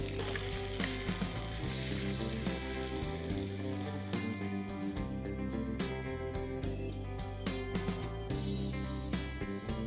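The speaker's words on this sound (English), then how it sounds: "I'm just going to put my pan on a high flame and give it a good stir continuously for the next 3 to 4 minutes." Crab sukha frying in a pan on high flame while being stirred continuously, a steady loud sizzle with frequent scraping stirs throughout.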